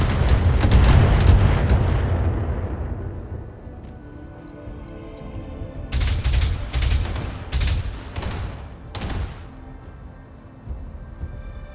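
Mech weapons fire in the BattleTech strategy game: a heavy booming blast rolls off, then a run of sharp, loud gunfire-like volleys and impacts follows at uneven intervals, with no speech.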